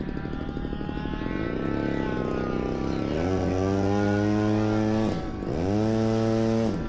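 An ARROWS RC Pioneer 620mm beginner model plane's electric motor buzzes in a continuous whine whose pitch bends down and up as it sweeps past low over a runway on a touch and go.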